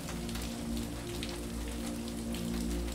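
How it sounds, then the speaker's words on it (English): Rain falling steadily, with close pattering drops over a continuous hiss and a low hum underneath, constant throughout. "When it rains like this"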